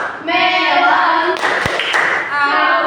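A classroom group chants a rhythmic clapping song together, and a few sharp hand claps punctuate the loud, close chorus of voices.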